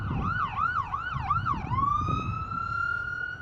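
Police car siren wailing up and down in a fast yelp, then settling into a long steady rising tone, loud and fairly close over a low rumbling background near Boston Logan International Airport.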